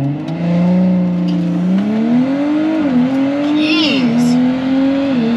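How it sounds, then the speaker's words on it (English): A drag racing car launches down the quarter mile, its engine revving hard and rising in pitch as it pulls away, loud and sustained, with a voice exclaiming briefly. "It's launching pretty well today."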